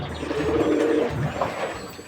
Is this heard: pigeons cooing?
yes